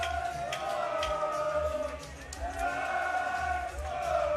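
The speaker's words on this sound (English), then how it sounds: "Quick soccer chant going on from the crowd at the Bridgeway Hotel" A crowd at the Bridgeway Hotel breaks into a soccer chant during a fight night, with massed voices rising and falling in a rhythmic, sing-song pattern that is fairly distant and blends with the room's hubbub.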